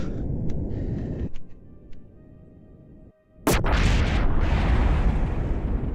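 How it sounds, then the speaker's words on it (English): Rocket parts blow apart during takeoff in Kerbal Space Program. A quiet engine-like hum runs first, then a sudden sharp blast breaks into a loud, sustained roaring rumble of explosions. "stuff exploding in the background"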